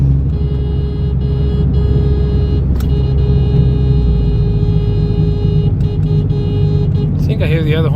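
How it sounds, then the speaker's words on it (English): A Toyota Camry drives along, its engine and road noise making a loud, steady, close interior rumble throughout, with a brief voice rising near the end. "Starting up my Camry and driving it."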